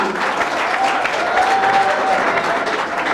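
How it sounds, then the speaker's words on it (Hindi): Hearty crowd applause for chief guest Ruma Devi at a college valedictory function, a thick, even wash of many hands clapping steadily, fairly loud with a faint tonal whine in the hall. "श्रीमती रूमा देवी के लिए एक बार जोरदार तालियां"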